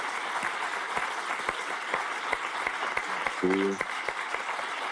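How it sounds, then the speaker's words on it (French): Warm applause from a live show audience welcoming artist Romuald Hazoumè, dense sustained clapping with scattered sharp claps, a brief voice speaking over it near the end. "Alors je veux un tonnerre d'applaudissements pour Romuald Azoumé."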